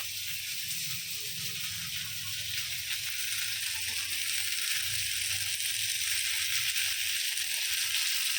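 Fish frying in a home kitchen pan, giving a steady, continuous sizzle and hiss with no break, close and moderately loud, with a low rumble underneath.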